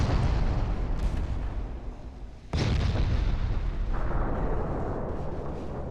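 Naval battle in Ultimate Admiral Dreadnoughts: a sustained rumble of gunfire and explosions, then a sudden loud ammunition detonation bursts in and keeps roaring afterward.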